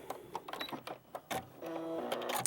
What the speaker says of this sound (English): And then I do sew off just a little bit.